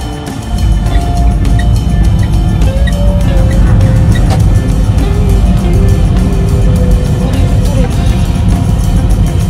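A Citroën AMI electric car drives through the streets of Riga, a steady loud rumble of cabin and road noise with tire hum throughout, while people talk inside the car.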